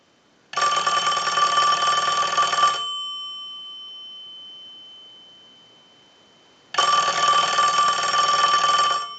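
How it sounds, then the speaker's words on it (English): A Western Electric Princess telephone's bell rings under a ring cycle from a line analyzer: two loud, close, jangling bursts of about two seconds each, separated by a long silent gap. "we're going to use the analyzer, and we're going to send a ring cycle."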